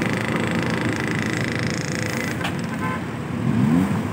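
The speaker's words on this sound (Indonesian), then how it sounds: "bus pariwisata" Steady roar of road traffic with a tourist bus passing close by in early morning, engine rumble filling the whole stretch, a brief higher squeal near the end.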